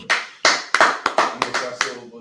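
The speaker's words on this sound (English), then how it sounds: "Clap it up." A group gives a single salute to an officer by clapping together at the end of a class. About seven sharp, loud, unison claps land in a quick, slightly uneven rhythm.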